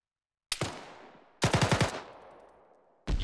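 Three sharp gunshot bursts from a video game firefight at a bunker, the middle one a quick rattle of four or five rounds; each burst rings out and decays, with clear gaps between them.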